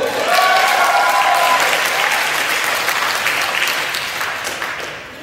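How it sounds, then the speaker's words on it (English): A comedy-show crowd claps for a stand-up comedian, a loud, dense burst of applause that starts strong, holds steady, then tapers off toward the end, with faint voices mixed in early. "at that part I expect everyone to give me a round of applause."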